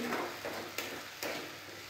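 A spoon stirring onion poppy-seed paste (piyaj posto) in a frying pan, soft sizzling underneath with two or three scraping strokes at an even pace, close by.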